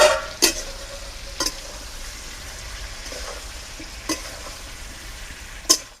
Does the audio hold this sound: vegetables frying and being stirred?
yes